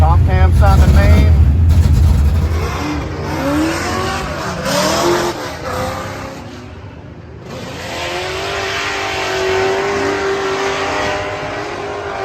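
Race car engine fitted with a Comp cam and FuelTech injection, revving and droning loudly on track at Freedom Factory, pitch rising and falling over sustained throttle, with a voice talking over it.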